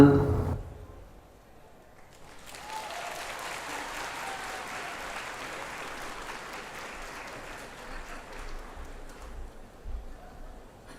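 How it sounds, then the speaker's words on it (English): After a brief sound at the start and a short lull, an audience at a Comic Con main stage breaks into steady applause for a performer, sustained at moderate volume from a distance. "Give a big round of applause for Michael."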